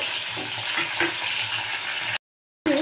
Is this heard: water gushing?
no